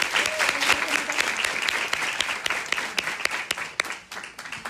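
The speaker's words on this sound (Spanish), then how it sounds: "Lo recibimos con un fuerte aplauso" Strong audience applause welcoming a professor to open a panel session, dense and energetic with crisp individual claps throughout, with some crowd murmur beneath and a slight thinning toward the end.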